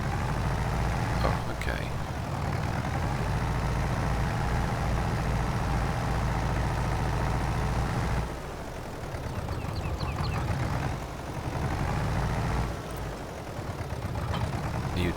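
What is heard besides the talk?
tractor engine in Farming Simulator 22 video game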